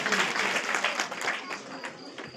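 Close, dense audience applause at a village-assembly Ramayana stage performance, steady clapping throughout with a slight fade at the end.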